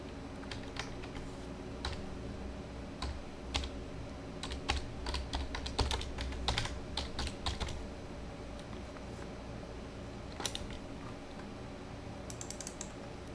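Keys clatter on a computer keyboard in quick irregular bursts while text is entered in a design program, close and crisp, with pauses between flurries and no talking.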